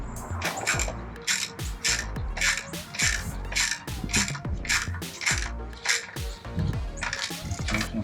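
A ratchet tightens a spark plug on a Lincoln MKX engine, a fast series of close, crisp clicking bursts in repeated strokes, with brief pauses between.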